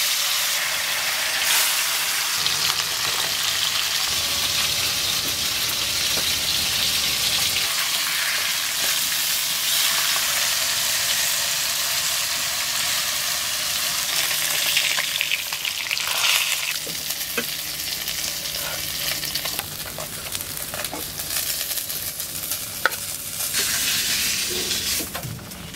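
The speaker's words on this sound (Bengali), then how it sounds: "এই বাকি মাছগুলো ভেজে নিই।" Fish fries in hot oil in a rural village kitchen, a loud, dense, continuous sizzle with occasional stirring scrapes and small clinks throughout.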